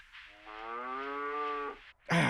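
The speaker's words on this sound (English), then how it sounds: "A cow says." A cow gives one long, steady moo lasting over a second, close and clear, before a short burst of another sound cuts in.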